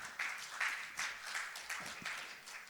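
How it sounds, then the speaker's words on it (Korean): An audience at a city forum lecture applauds, a soft, fairly distant wash of clapping with a few louder swells, continuing steadily without voices. "큰 박수 부탁드립니다"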